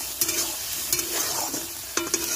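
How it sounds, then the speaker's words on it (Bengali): Taro leaves and shrimp being stirred in a pan, repeated scraping strokes of a spatula over a light sizzle, close, with several distinct clanks. "ঢেলে দাও কচু শাক আর চিংড়িটা দিয়ে ঘেটে ঘুটে চাপা দিয়ে দেবে নাকি?"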